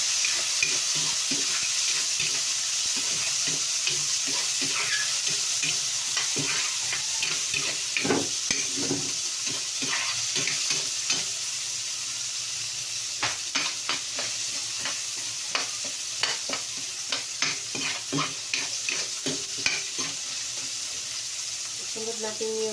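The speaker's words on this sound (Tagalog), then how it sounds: "Ayan ang pinaprituhan ng isda. Pinagisa natin. Tapos ilagay natin yung sibuyas." Lapu-lapu grouper fish and onions fry in a pan with a constant loud sizzle, broken by frequent crackles and stirring clicks throughout.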